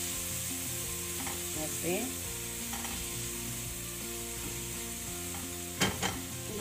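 Chopped vegetables sizzle and fry in a pot for a diabetic-friendly vegetable soup, a steady hiss with occasional scraping stirs and a couple of sharper clatters near the end.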